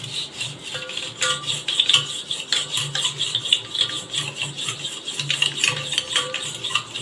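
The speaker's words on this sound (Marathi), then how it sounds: "आता आपण हे रवीच्या सहाय्याने हे घोळून घेऊया मी मिक्स करून घेऊया साखर आणि दही" A wooden churner (ravi) whisks sugar and curd in a vessel, producing close, continuous rhythmic scraping and swishing strokes with no talking.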